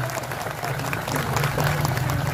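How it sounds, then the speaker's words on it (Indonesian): Audience applause at a large outdoor Islamic religious gathering in a village in Riau, Indonesia, in honour of the village head: dense crowd clapping under a low amplified hum, growing slightly louder toward the end. "Tepuk tangan dulu buat kepala desa kita."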